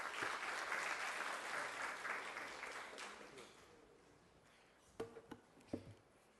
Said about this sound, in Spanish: quien recibimos con unas fuertes palmas